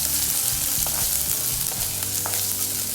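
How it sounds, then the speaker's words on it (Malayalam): Onion, ginger and green chillies sauté in a pan for a Palakkad-style idli masala curry, a steady close sizzle with occasional stirring scrapes throughout. "ഇനി ഇത് നന്നായിട്ട് വഴറ്റുന്നു"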